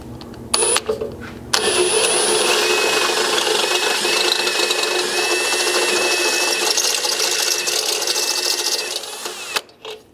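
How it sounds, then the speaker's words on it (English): A power drill spinning a step bit (unibit) through metal while installing a skid plate system on a Ford Ranger, a steady high whining grind that runs loud and unbroken for about eight seconds after a couple of brief starts, then winds down. "Here I have just a step bit or unibit, if you will."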